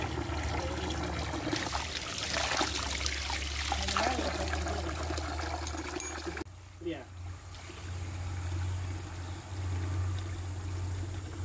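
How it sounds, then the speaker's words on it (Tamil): Spring water trickles down the rock side at a jungle temple in Bukit Cheraka, Jeram, a faint, steady dribble under low rumbling background noise, with a brief change partway through. "ஓரத்துலேருந்து வர ஊத்து தண்ணி தான் இது."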